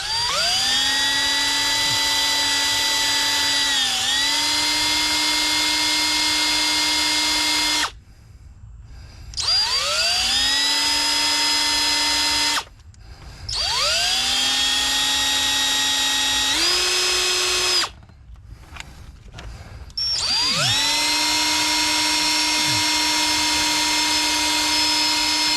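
A power drill spinning a brush to clean glow plug relay contacts from a 7.3 Power Stroke, a loud close whine in four long bursts that sag in pitch under load, with short pauses between.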